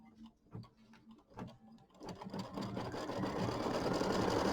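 An embroidery machine sews a stitching line through fabric on stabilizer while quilt blocks are embroidered, starting with a few separate stitches, then settling into a steady, loud, rapid mechanical whirr that continues to the end.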